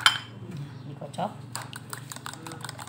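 A tofu-based filling mixture for stuffed intestine being whisked in a bowl, quick light clinking taps of utensil on bowl in a short burst, close and moderately faint with background hum.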